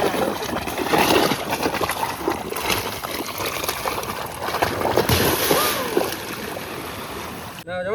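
Water splashing and trickling at a riverbank in the Sundarbans as people wash their hands and feet before boarding a small fishing boat, a steady close wash of splashes with voices faintly mixed in.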